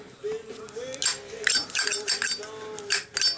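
A brass Zippo Vampire Skull lighter in black matte finish with a steel insert gives crisp metallic clicks and a flick of the wheel as it is opened and lit, close up, under someone speaking.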